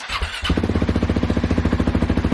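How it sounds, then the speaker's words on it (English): A KTM 690 Enduro R motorcycle with a WINGS aftermarket exhaust cranks briefly, then catches and settles into a steady, loud, rhythmic idle close by. "Put it on again, the ignition, and then start up the bike"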